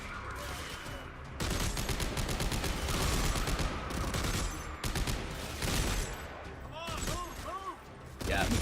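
Gunfire from a machine gun in the video game Dead Space 3 on impossible difficulty: long loud sustained bursts with short gaps and mechanical clatter, ending in scattered shots.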